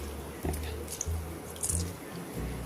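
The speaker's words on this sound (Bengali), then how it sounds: "অর্ধেকটা লেবু নিয়েছি তা নেংড়ে রসটা দিয়ে দিচ্ছি" Lemon juice from half a lemon squeezed into salted water in a pot while preparing restaurant-style chicken biryani: a few soft, quiet drips and splashes spaced over a couple of seconds against low background hum.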